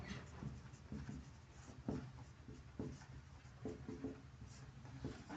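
Chalk or pen scratching across a board in a classroom lesson, a faint, steady series of short strokes and taps with no one talking.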